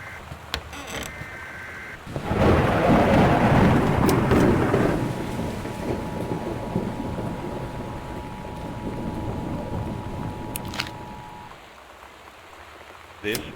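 Heavy rain and storm noise in the video game Gone Home, a steady loud downpour swelling in after a quiet start, with a faint tonal hum over the wash and the rain easing near the end.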